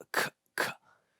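A voice imitates a hard K sound, two sharp close bursts in quick succession, followed by a faint trailing breath.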